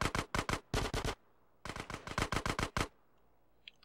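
Gunfire in the game GTA San Andreas: two rapid bursts of loud, close automatic shots, each several quick cracks, separated by a short pause and followed by quiet.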